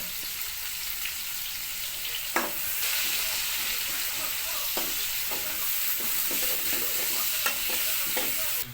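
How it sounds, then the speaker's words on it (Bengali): Onions frying in a pan give a steady bright sizzle, with periodic stirring clicks and scrapes of a utensil against the pan throughout. "গাইজ আমাদের পেঁয়াজ ফ্রাই হয়ে গেছে"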